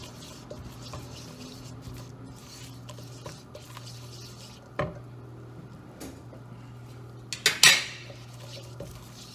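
A large cooking pot and utensils clink and tap now and then while white sauce is made for a palm heart pie, with sparse light knocks and a louder clatter of metal near the end.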